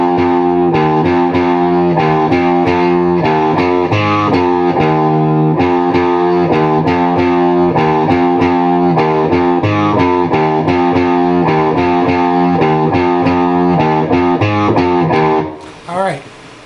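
Electric guitar plays a repeated rhythm part from a song, steady chugging chords with a slightly overdriven tone, looping three times and ringing out at the end.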